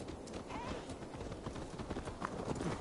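A horse's hooves clip-clop in a steady, fairly quiet rhythm in the video game Assassin's Creed Valhalla, with a faint whinny-like note among the beats and no voices.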